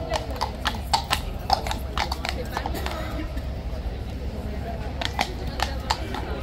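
Horse hooves clip-clopping on hard ground in a yard where a horse is stuck at a gate, a quick run of sharp, close knocks in uneven bursts over a low steady rumble of background noise.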